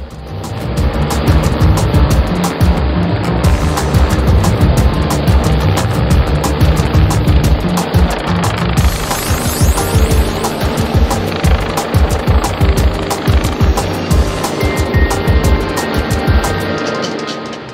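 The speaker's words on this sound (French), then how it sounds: "L'hélicoptère Dragon 2A se positionne ensuite en hélistation au-dessus du site pour faire descendre le pompier secouriste" A Dragon 2A civil security rescue helicopter hovers over a rescue site near Ajaccio, Corsica: a loud, continuous roar of engine and wind, with heavy rotor thumping growing more distinct in the second half.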